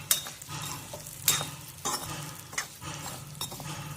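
Broken wheat is roasted in ghee and stirred in a pan, producing soft, repeated scraping strokes of a spoon with light sizzling and occasional metallic clinks, fairly close and fairly quiet.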